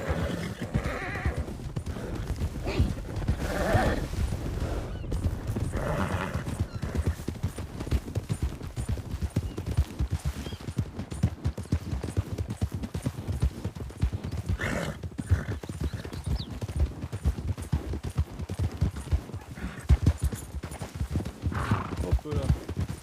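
Horses galloping with steady clip-clop hoofbeats throughout, along with an occasional whinny, while people talk over the sound.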